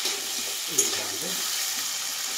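Crab pieces coated in salt and turmeric frying gently in a pan, a steady close hiss of sizzling oil with one brief clink partway through.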